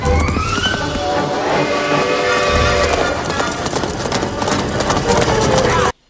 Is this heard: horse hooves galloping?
yes